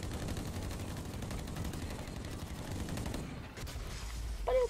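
Rapid automatic gunfire from the video game Blacklight, dense repeated shots and booms in a continuous burst, loud and close, easing briefly near the end.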